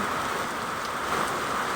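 Steady, dense rain from a typhoon pours down continuously, a broad hiss of heavy drops on surfaces with no voices.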